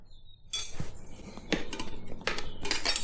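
Metal spoons levering a tyre onto a rear e-bike rim, with close clinks and scraping metal strokes that come in bursts against a low rustling background, no voices.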